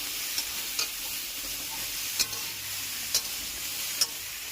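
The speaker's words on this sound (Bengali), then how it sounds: "এদিকে ভালো করে কষিয়ে নেব ডাঁটাটা" Vegetable stalks sauté in a pan with salt, making a constant hissing sizzle punctuated by about five sharp spatula taps and scrapes spaced irregularly, with no voices.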